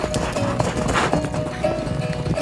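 Horse hooves clip-clop in a steady walking rhythm, moderately close, over a constant background tone with a faint whinny-like texture; no one speaks.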